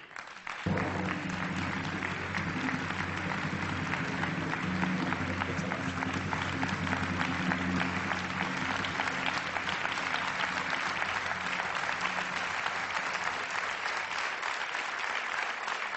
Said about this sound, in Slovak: veľmi zaslúžený potlesk pre vás